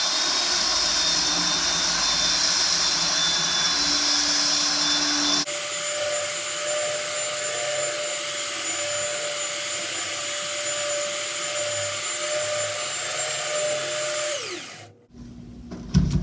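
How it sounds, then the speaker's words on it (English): A power sander running on a flat wooden drawer top, a loud, steady whirring drone that changes tone partway through, then winds down and stops near the end, with no talking. "working on just keeping this sander really flat on here"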